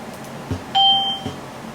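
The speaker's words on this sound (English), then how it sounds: "it plays the ding file just fine" A single clear electronic ding plays from an IBM PS/2 computer's Micro Channel sound card over faint background hum, bright and short with a quick decay, framed by soft clicks.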